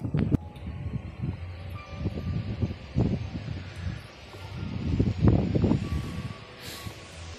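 Strong wind gusting in waves outdoors on a Halloween night, a continuous broadband rush that swells and fades over several seconds with low rumbling buffets, heard alone.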